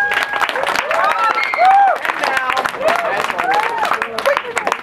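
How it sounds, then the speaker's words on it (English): Dense clapping and cheering from a crowd, steady and loud throughout, with a voice speaking over the applause. "we got to give you guys a round of applause just for that"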